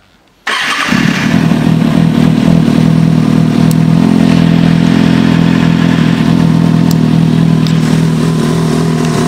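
A 2007 Kawasaki Ninja ZX-6R motorcycle engine fires up after a brief silence and settles into a loud, steady, smooth idle close by, running alone with no talk.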